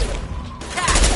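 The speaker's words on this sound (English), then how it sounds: "Concussive shots ready." A concussive shot power firing in a video game, a quick burst of booming, gunfire-like blasts stacked close together, loud and punchy, with a voice in the background.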